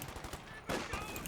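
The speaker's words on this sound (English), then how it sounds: "These guys are getting shot at." Gunfire in the World War II strategy game Company of Heroes 2, a rapid burst of shots followed by a louder crack and sustained firing, all within a second and a half.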